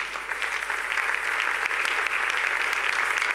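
A church congregation breaks into sustained applause to acclaim the Lord, a steady, dense wash of many hands clapping close and loud, with no pause throughout.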